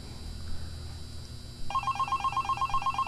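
Telephone ringing in the horror game Five Nights at Candy's: after a low background hum, an electronic ring starts partway through and repeats in a steady pulsing pattern, clear and close, with no talking.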